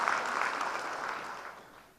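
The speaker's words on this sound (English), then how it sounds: "give her a second round of applause" Audience at a sustainable-development conference session applauds a panelist, a dense, steady wash of clapping that slowly fades over two seconds, with no talk over it.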